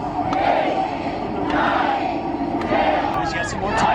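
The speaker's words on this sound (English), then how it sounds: "Fans are cheering him on, counting them." In the infield at Phoenix Raceway, a crowd of fans shouts and cheers in rhythmic bursts while counting along as a man does pull-ups.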